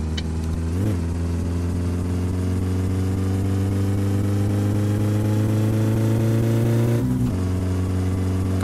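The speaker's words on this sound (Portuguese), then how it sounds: "O carro tá andando demais, bicho." Car engine in My Summer Car, fitted with a shift light, revving hard and then holding a loud, steady drone while driving, with a second sharp rev change near the end, close and without talk.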